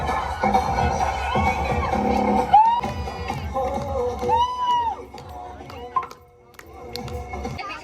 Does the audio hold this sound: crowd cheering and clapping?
yes